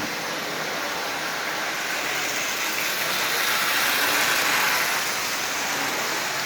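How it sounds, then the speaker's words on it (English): Motor of a Marx 1095 Santa Fe toy diesel locomotive running steadily, a continuous close, loud whirring hiss with no pauses, alone without talk. "Headlight is working, E-unit is working, motor is running absolutely perfectly."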